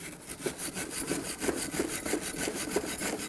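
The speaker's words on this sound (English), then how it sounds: "Using a wire brush, we're going to clean where our tins are going to sit." Wire brush scrubbing the pad-seat areas of a rear brake caliper bracket on a 2008-2015 Scion xB, a steady rough scratching with repeated back-and-forth strokes, close and alone.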